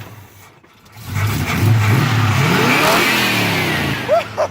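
A 1982 Chevy truck hot rod fitted with a Corvette engine revs hard and close, the roar climbing after a quieter first second and holding loud with a final pair of blips.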